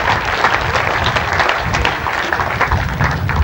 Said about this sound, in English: a great big round of applause